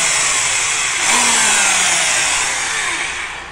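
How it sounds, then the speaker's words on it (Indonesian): A homemade grinder built from an electric drill runs in one continuous loud high-pitched whine, swelling slightly partway through and easing off near the end, with no talk. "Yes, ini sudah jadi gerinda teman-teman."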